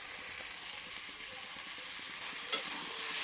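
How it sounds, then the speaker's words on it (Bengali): Spices fry in a pan with a soft, continuous sizzle and hiss, faint and steady, with no talking. "দেখ মশলা ভাজা হয়েছে"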